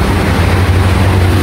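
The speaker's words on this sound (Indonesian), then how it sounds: "Sorry kalau suaranya ini agak berisik karena memang di pinggir jalan guys." Steady roadside traffic noise beside a street, a loud continuous low rumble and hiss of passing vehicles with no speech.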